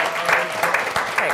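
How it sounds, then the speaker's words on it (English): A round of applause from the audience at a university law student alumni panel, with clapping loud and close and a voice talking over it. "Can we not give a huge round of applause to our very accomplished?"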